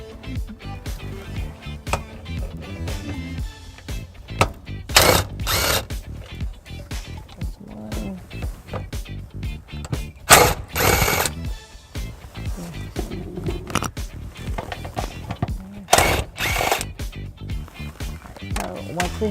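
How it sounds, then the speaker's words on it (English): A ratchet removes 10mm bolts from an interior panel of a 2015 Ford Focus, giving short bursts of rapid clicking at intervals while someone talks throughout. "we are going to be removing the 3 10mm bolts that are going to be on this paneling"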